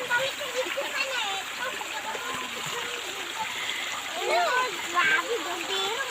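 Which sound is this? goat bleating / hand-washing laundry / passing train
hand-washing laundry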